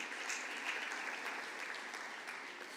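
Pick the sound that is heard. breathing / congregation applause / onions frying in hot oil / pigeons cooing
congregation applause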